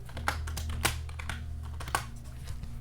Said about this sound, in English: And then you can type something in.